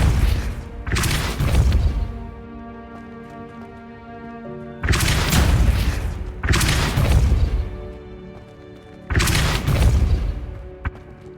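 Depulso, a force-push spell, cast repeatedly in the video game Hogwarts Legacy, heard as three loud, booming whooshes with crashing impacts spaced a few seconds apart, separated by quieter ambient game sound.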